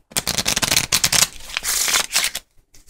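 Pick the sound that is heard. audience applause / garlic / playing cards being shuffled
playing cards being shuffled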